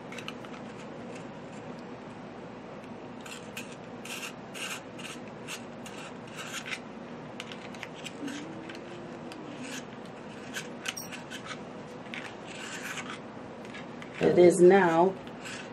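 A colored pencil being sharpened, giving soft, intermittent rasping scrapes spread over several seconds, with brief talk and a louder burst of voice near the end.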